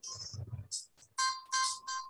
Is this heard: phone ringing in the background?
yes